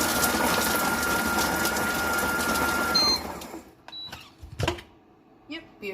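A Thermoblend food processor blitzes sliced ingredients at speed 4, a loud whirring motor drone that stops abruptly, followed by clicks, rattles and a voice speaking.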